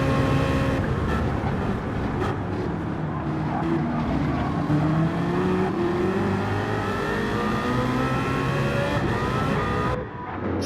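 A high-revving BMW V8 race car in a sim racing game at the Nürburgring GP circuit, its exhaust note droning loud and continuous as the pitch climbs steadily through the revs, with other engines underneath.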